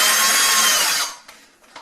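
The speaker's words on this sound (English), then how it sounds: "The main reason why you want to drill a pilot's hole is so you don't have to worry about your wood splitting as much." A power drill bores a pilot hole into wood for a closet shelf, a loud steady whirring grind for about a second before it cuts off, followed by a couple of faint handling knocks.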